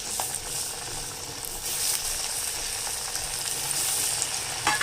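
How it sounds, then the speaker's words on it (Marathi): Dal vadas deep-fry in hot oil over a medium flame, a steady close crackling sizzle with occasional sharper pops and faint utensil clinks, no talking. "आणि मीडियम गॅसवर तळायचे चांगले"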